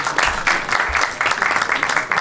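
Audience members clap at a film festival Q&A, a dense patter of many hands, steady and fairly close throughout the short stretch.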